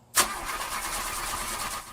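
A car engine with a dead battery cranks in an empty parking lot, starting with a sudden loud burst and then a steady, rough broadband whir for about two seconds. No voices are heard.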